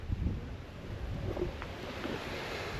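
Strong, dry wind blows by the waterside, a continuous rushing roar buffeting the microphone with low rumbles, and nobody speaks.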